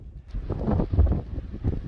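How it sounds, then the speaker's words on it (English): Low, blustery outdoor wind buffeting the microphone, a steady rumbling roar that swells and dips throughout with no talking. "It's a bit too windy outside to film."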